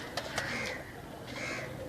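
Pigeons kept by a breeder give a few short, soft coos and calls against low background noise, with no speech.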